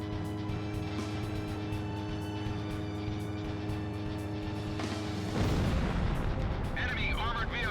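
A burst of explosion in the Ace Combat 0 video game destroys an enemy armored vehicle: a loud broadband boom erupts midway, over a steady hum of game music and engine drone, followed by crackling debris.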